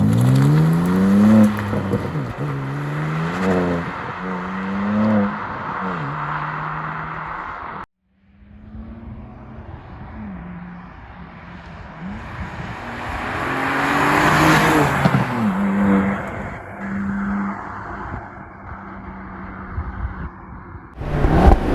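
A 2023 BMW M2 driven fast past the camera, its engine note rising and shifting through gears as it approaches, cutting off briefly, then roaring by with a swelling whoosh before fading out.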